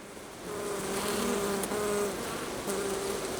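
Honeybees buzzing around an open hive during a frame inspection, a close, dense, steady drone with individual bees whining past.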